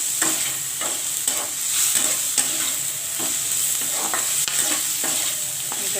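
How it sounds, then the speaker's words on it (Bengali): Tangra fish coated in salt, turmeric, sugar and cumin is stirred and sautéed in a pan, with rhythmic spatula scrapes repeating roughly every second over a constant close sizzle. "এটাকে ভালো করে কষিয়ে নেব।"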